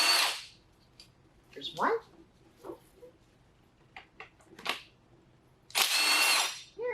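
An impact wrench on a 1998 Acura Integra GS-R transmission buzzes in short bursts while removing 12 millimeter bolts, with a loud spin at the start and another near the end, clinking parts between, and a voice briefly speaking.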